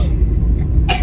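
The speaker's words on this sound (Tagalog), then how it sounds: "And parang ito inuubo din guys." A child coughs once, a short loud burst right at the end of a brief low rumble of room noise.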